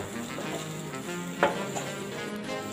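Cabbage, ginger, garlic and green chilli sizzle steadily in a hot pan with onion and capsicum, a continuous close frying hiss with one brief louder crackle near the middle.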